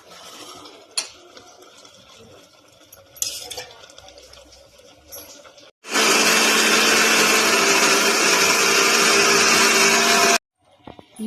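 A kitchen mixer grinder runs loud and steady for about four seconds, grinding masala spices, after quieter clinks and handling sounds, then cuts off abruptly.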